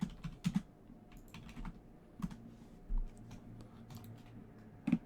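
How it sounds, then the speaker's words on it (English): Fast, hearty typing on a computer keyboard during an online poker session: soft, irregular clicks in quick bursts with a few sharper key strikes, fairly quiet against a low background hum, with no talking. "Typing so heartily."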